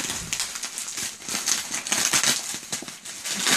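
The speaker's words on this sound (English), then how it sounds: "Sorry if this wrapping annoys everybody." Gift box wrapping paper is crinkled and torn open up close, producing steady loud rustling and crackling that runs without pause.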